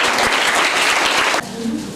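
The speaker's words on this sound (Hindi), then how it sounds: "तो जोरदार तालियां" Audience at a school Teacher's Day celebration claps loudly for a teacher, a dense burst of applause that cuts off sharply after about a second and a half, leaving quieter room noise.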